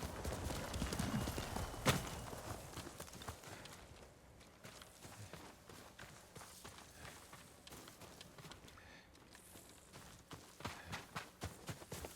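Horse hooves clip-clop at a walking pace, faint and close, with rustling movement and a quiet ambient backdrop, in the video game Ghost of Tsushima.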